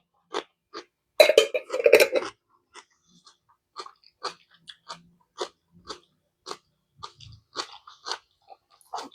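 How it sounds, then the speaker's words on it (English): Crunchy bites and chewing of thick pickle slices, close and crisp: a loud burst of crunching early on, then steady separate chewing crunches with short silences between them. "You could probably even hear the crunch more with this one."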